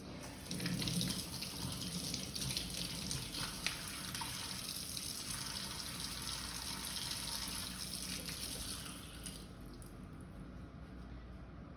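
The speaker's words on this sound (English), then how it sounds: "So I'm gonna start by washing my hands." A kitchen tap runs steadily while hands are washed beneath it, a close, even splashing flow that softens near the end, with no voices.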